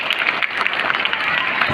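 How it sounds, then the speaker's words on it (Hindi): Loud, dense audience applause for a school principal at a Kendriya Vidyalaya event in Sagar Cantt, continuous clapping from a large crowd throughout. "मैम के लिए एक बार जोरदार ताली बजाइए."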